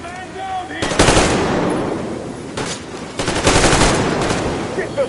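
Automatic gunfire during a hangar firefight in the video game Metro Exodus: loud, close bursts of rapid machine-gun fire in several rattling volleys, with shouted voices over and between the shots.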